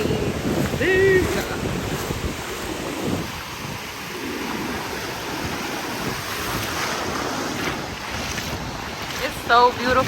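Ocean surf crashes steadily on a beach, a broad roar of breaking waves mixed with heavy wind buffeting the microphone, loud and close, with a brief voice-like sound near the start.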